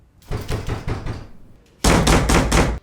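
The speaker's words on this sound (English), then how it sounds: "And then there were the loud knocks at the door." Loud knocks at a door in a short film: a run of about four heavy raps, a short pause, then a second, louder burst of rapid pounding.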